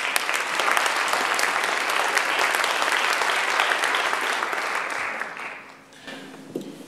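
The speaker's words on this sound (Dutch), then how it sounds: "Een applaus graag" Loud audience applause greets two performers at an artists' event held at a strike picket, a thick wash of clapping that holds strong before thinning and fading, with a few scattered claps and faint noise at the end.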